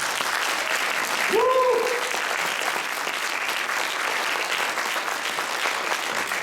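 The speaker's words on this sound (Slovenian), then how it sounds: "En najlepši aplavz za njih, lepo prosim." Applause from an audience at a youth dance competition for solo and duet dancers, sustained and even throughout, with a brief voice heard early on.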